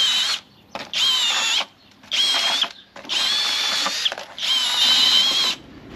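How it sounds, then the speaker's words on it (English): A Dongcheng drill fitted with a paddle attachment whirs through white cement mix in four bursts of a few seconds each, loud and close, with brief pauses between runs. "The Dongcheng drill with the paddle attachment has been doing a pretty good job."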